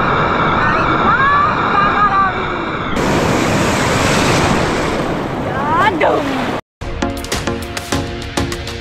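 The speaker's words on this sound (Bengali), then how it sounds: "দেখুন পুরীর চেয়েও বড় ঢেউ।" Big sea waves roll and crash at Dagara beach, a loud, continuous wash of surf with wind buffeting the microphone, briefly cutting out near the end before resuming.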